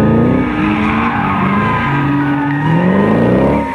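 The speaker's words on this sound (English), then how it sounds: "That camera's like under the bumper of these cars as they're drifting around." Race cars drift through corners in the Gran Turismo PSP game at Laguna Seca, engines droning loud and steady while long tire squeals rise and fall across the whole stretch, close and continuous.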